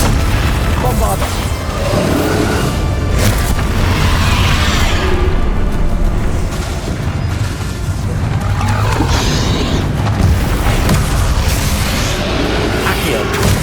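Bombarda spell explosions in the Hogwarts Legacy video game, a dense barrage of booming blasts and bursts running continuously and loudly through the whole stretch, with shouted spell incantations layered over the combat.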